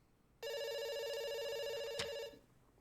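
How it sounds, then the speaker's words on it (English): A telephone rings once inside the video game Dr. Langeskov, a steady electronic ring lasting about two seconds, loud and close, with no talk over it. "It's ringing."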